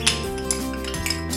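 A utensil scrapes garlic powder and salt into a mixing bowl, making quick, close clinks and scrapes against the dish over a little more than a second, with musical tones playing underneath.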